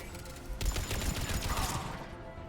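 Turret gunfire in the video game Mass Effect 3 starts abruptly as a dense, steady fusillade of rapid shots over game noise and then fades out near the end.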